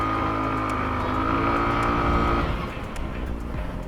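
An FKM Slick 150 motorcycle rides along at around 30 to 40 during a brake test, its engine holding a steady drone that fades toward the end.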